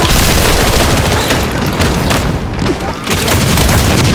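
Heavy, continuous gunfire and booming blasts in the video game The First Descendant, loud and dense throughout with no pause.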